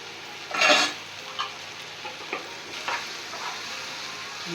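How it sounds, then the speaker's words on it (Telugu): Egg bhurji sizzles in a pan with turmeric, a soft steady fry under scattered stirring scrapes, one louder clatter of a spoon near the start and lighter taps after; no voices. "బాగా ఎర్రగా ఫ్రై అయిపోవాలి"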